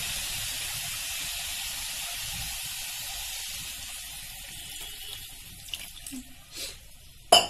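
Water poured into a pot of drumstick leaves, about one and a half glasses, a steady hissing pour that gradually fades, followed by a few faint clinks and a final knock.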